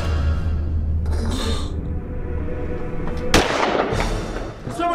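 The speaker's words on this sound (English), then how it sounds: "Someone's shooting outside." Gunshots fired outside a building in a movie scene, heard as a dense, rumbling series of sharp bangs with a loud crack near the middle and continued popping toward the end.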